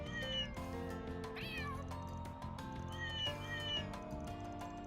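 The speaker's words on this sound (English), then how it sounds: "the meeting of the cats is underway" Several cartoonish cats meow back and forth in the video game Trails Beyond the Horizon, their calls overlapping over a steady background of game music.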